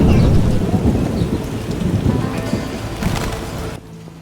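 Heavy rain pours down through a thunderstorm in the game The Witcher, with loud rolling thunder rumbling beneath the dense patter before the sound cuts off abruptly near the end.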